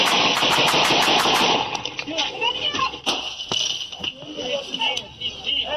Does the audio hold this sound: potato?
no